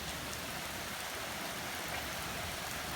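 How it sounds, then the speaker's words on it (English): A heavy rain downpour falls outdoors around a parked car, a steady, dense hiss of drops hitting surfaces that stays even throughout. "Nice heavy downpour."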